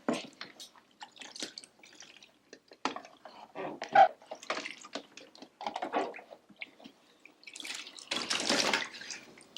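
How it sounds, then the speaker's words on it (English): Water rinses a plate during a Montessori early-learning washing activity at home. Soft, close, irregular splashes and drips build to a fuller gush of water near the end, with no talk. "Then rinse the plate."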